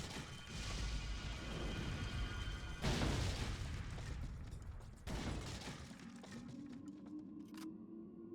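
Explosion in the video game Resident Evil 4, a loud booming blast and crashing debris within dense mechanical game noise, followed by quieter rumbling and a lingering tone.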